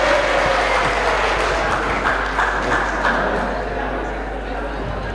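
An audience at an Indonesian anniversary gathering applauds after a dance performance, a steady, moderately loud spread of clapping that slowly thins out, with voices murmuring underneath.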